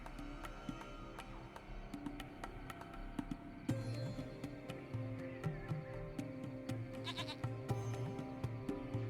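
A goat in the video game Lost Horizon, faint repeated bleats over a quiet game ambience with soft clicks and small taps scattered throughout.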